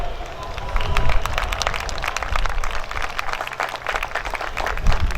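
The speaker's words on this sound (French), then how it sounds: "il faudrait donner une bonne main d'applaudissement à tout ce monde-là" A large crowd at CanadaFest 2016 applauds steadily, dense clapping with some cheering mixed in, loud and continuous throughout.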